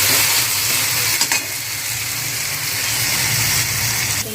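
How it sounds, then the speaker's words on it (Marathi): Tomato fries in oil until soft, a steady, close hiss of sizzling with a brief stir-scrape partway through and a faint low hum underneath, with no talking. "टॅमॅटो जो आहे ना असा मऊसर होईपर्यंत आपल्याला छान असा फ्राय करून घ्यायचा आहे"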